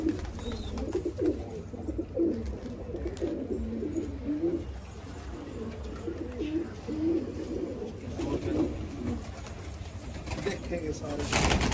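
Domestic pigeons, a mix of home-bred and outside birds, coo in a dense, continuous low burbling chorus, with people talking intermittently over the flock.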